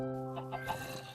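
Chickens cluck in a Minecraft game over a steady humming music bed, giving a few short, faint clucks in quick succession.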